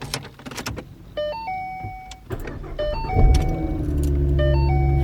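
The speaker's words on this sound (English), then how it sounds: "start your car to allow the system to build pressure and get oil moving through the engine" A Ford Mustang V6 engine cranks and starts among chimes and jangling, then settles into a steady low idle rumble.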